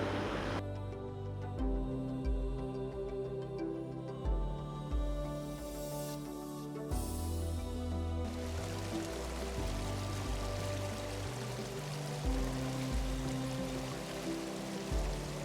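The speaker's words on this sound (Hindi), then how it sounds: "यहाँ पर बैठकर नदी की आवाज़ को सुनते रहना" A mountain river rushes steadily along the Hampta Pass trek in Himachal Pradesh, a constant broad wash of flowing water heard alone with no voices.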